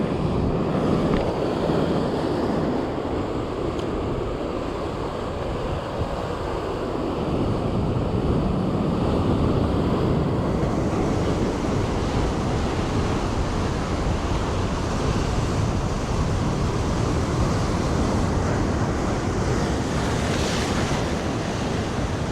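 Ocean waves break and wash onto the shore at Scottburgh beach during a fishing session. A steady, loud, broadband rush of surf runs throughout, mixed with wind buffeting the microphone.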